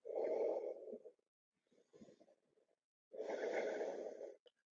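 Deep breathing during a yoga twist pose in an Ashtanga second-series practice: a long audible breath, a faint shorter one, then another long breath, close and clear with no talking.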